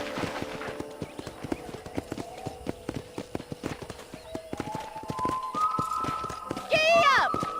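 Horse hooves clip-clopping in the western video game Red Dead Redemption, a steady trotting rhythm of sharp hoof strikes that quickens near the end, with a voice and game sounds over it.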